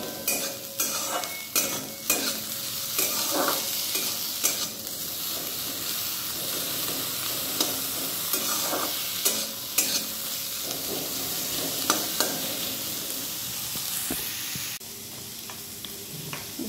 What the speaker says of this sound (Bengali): সবজিগুলো দিয়ে দিলাম। পেঁয়াজটা একটু ভাজা ভাজা হয়ে গেছে।